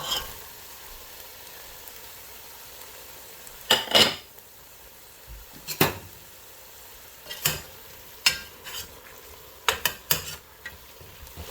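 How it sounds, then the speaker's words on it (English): Pork ribs go into a pot of onions and tomato for sinigang, heard as scattered clanks and scrapes of a utensil against the pot over a low sizzle, several sharp knocks spaced irregularly. "Next, we're gonna put the rest of our meat, which is our pork ribs."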